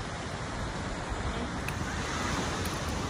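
Ocean surf at Pelindung beach in Kuantan, a steady loud wash of waves with wind rumbling over the microphone, continuous throughout with no voices.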